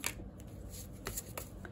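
Tarot cards shuffled and handled close up, a quick run of soft riffling flicks and taps, faint and brief, with no talk.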